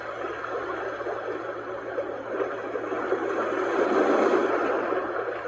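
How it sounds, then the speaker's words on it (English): A white noise machine plays a gentle sea-wave track, a steady broadband wash that swells slightly louder toward the end, continuous and even with no voices. "It's actually a gentle sea wave."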